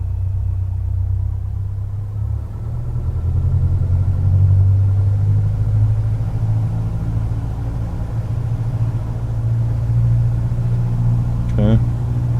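An aircraft engine holds a steady low drone at 1800 RPM during a run-up in a home flight simulator, loud and continuous, with a brief voice near the end.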